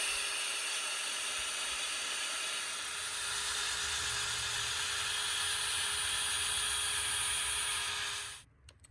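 A drill with a sanding attachment whirs steadily against a car headlight lens in a constant high, hissy drone that runs for several seconds before spinning down and stopping.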